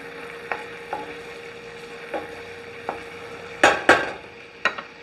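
Wine reducing in a pan with garlic: a steady low bubbling sizzle with several sharp clicks and clatters of a utensil stirring against the pan, loudest in a cluster near the end, close up with no talk.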